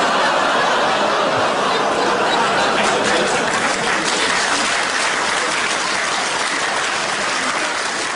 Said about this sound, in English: Really, London? Really? A round of applause?